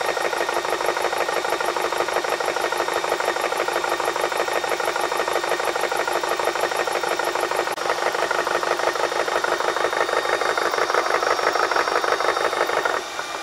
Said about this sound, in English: Okay, the pump shut off, it's that quick.